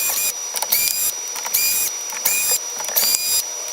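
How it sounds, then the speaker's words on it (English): A power driver backs screws out of the rear cover of a Traxxas UDR RC truck, giving several short whirring bursts separated by brief pauses, close and loud, with no talking. "So I'm going to use the power driver to remove all of these."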